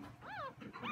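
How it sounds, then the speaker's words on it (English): Newborn beagle puppies crying, with a couple of short, high, wavering whimpers and squeals, faint and close in a quiet room, with no talk. "Why are your puppies crying?"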